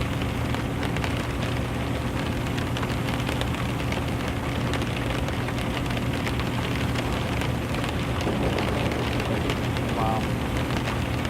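Heavy rain in the X-Plane 11 flight simulator during a stormy night approach, a dense constant patter over a steady low engine drone, loud and unbroken throughout.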